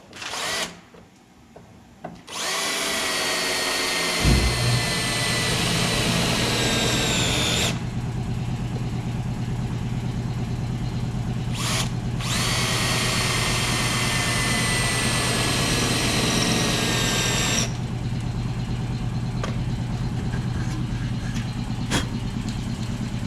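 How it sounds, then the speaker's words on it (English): A power drill whines loudly and steadily through a Dodge Ram truck's rocker panel metal, with several long continuous runs broken by short pauses, close to the microphone. "So the way I've always done these is to just drill them."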